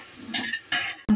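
Meat browns in a pan on the stove while it is stirred, giving a couple of close scraping strokes over a light sizzle and then a sharp utensil clink at the end.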